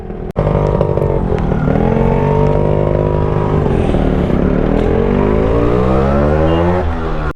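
Yamaha RX two-stroke motorcycle riding on a road around Kodaikanal: a loud, close, buzzy two-stroke engine that climbs and drops in pitch with throttle, continuous for the whole stretch.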